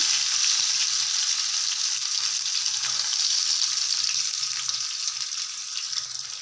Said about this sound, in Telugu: మనం కట్ చేసి పెట్టుకున్న ఆనియన్స్ కూడా వేసుకోవాలి